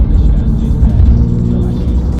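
An RWB Porsche driven at speed, its engine droning steadily and loudly from inside the cabin with continuous road noise, some faint voices in the background.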